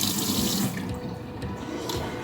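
A tap runs steadily into a kitchen sink while hands are washed, a close, continuous splashing rush that shifts slightly as the hands move under the stream, with no talking.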